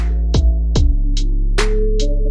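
Dark electronic melody track with an auto filter pulled down and the other track muted: a sustained low synth bed with sharp percussive hits around four times and bright filtered blips, alone without talk.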